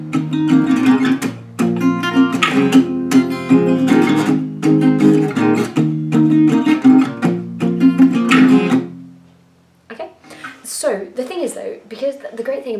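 Palm-muted acoustic guitar strumming in a steady, choppy rhythm for several seconds, then a voice starts speaking.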